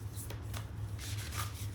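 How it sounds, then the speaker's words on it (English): A deck of cards being shuffled by hand, soft riffling and rubbing strokes in a few quick bursts, close but quiet against a low steady hum. "So without further ado, I will begin the shuffling"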